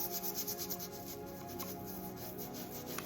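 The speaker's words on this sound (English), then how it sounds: "Just using a little soft scrub and some plain water and a toothbrush." Toothbrush scrubbing a composition doll with soft scrub cleanser and plain water, rapid soft rhythmic rubbing strokes, close and quiet, with no talk.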